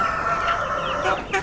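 Chickens clucking close by at an outdoor fish grill in rural Vietnam, a steady run of cackling and clucks with no talk.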